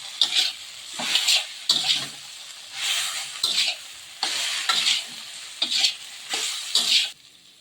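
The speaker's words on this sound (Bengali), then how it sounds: "এবার কর্নটা দিয়ে আমি ভালোভাবে কষিয়ে নিচ্ছি।" Baby corn with spices being stir-fried in a pan for chilli baby corn, a spatula scraping and tossing in repeated bursts about once a second over a sizzling, hissing background.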